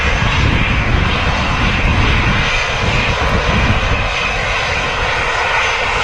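An EasyJet Airbus A320 airliner on the runway at Manchester Airport, bound for Alicante, its jet engines roaring loud and steady throughout with a broad, constant rumble.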